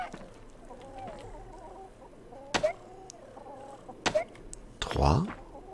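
Chickens cluck in the farming video game Fae Farm, a few short soft clucks and sharper game effects popping out over quiet background music.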